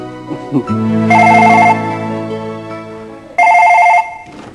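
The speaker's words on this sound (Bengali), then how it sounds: "ফোনটা ধরো।" A telephone ringtone sounds in two loud, close bursts of a repeating electronic melody with a pause between them, against a faint indoor background.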